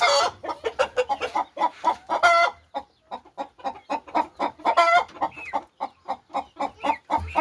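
Andijan black hens cluck in quick, rhythmic bursts close to the listener, a lively run of short calls with a brief lull in the middle before resuming.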